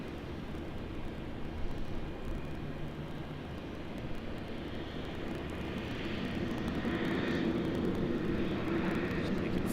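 A fixed-wing airliner arrives at night on runway 34 left at Sydney Airport, its engine roar a steady, moderately distant rumble and whine that swells slightly toward the end.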